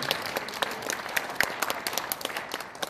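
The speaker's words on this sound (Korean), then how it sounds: "박수 한번 쳐주시기 바랍니다." A church gathering claps in applause during a pastor's speech, scattered individual hand claps over a soft continuous patter, moderately quiet and somewhat distant.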